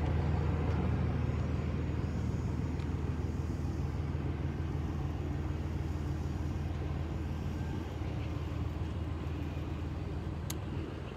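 A large truck rolls past on a street, its low engine roar constant and fairly near, with a brief sharp air-brake hiss near the end.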